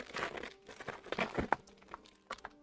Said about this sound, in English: Let's do the crinkling.